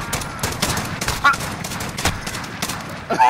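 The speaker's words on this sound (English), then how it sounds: "Was I shooting at your room or what?" Sniper rifle gunshots in a first-person shooter video game crack out repeatedly in quick bursts across a few seconds, loud and close amid busy game noise.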